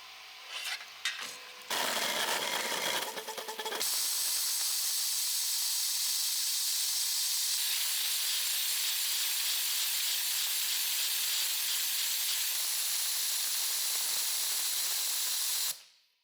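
A high-speed 3D printer running a print, giving a loud, continuous hissing whir that shifts in character partway through and stops abruptly at the end, after a few brief irregular bursts at the start.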